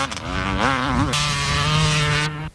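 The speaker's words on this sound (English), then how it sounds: "Mark Godfrey does a wheelie for us." A two-stroke-sounding enduro motorcycle at a 1994 Powys Enduro event revs hard and close during a wheelie, its pitch wavering and then holding a high, buzzing whine before it cuts out sharply.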